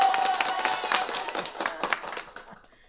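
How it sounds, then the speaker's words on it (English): An applause sound effect played on a live anniversary stream: a dense patter of clapping that runs for about three seconds before fading out, with no voices over it. "And some applause"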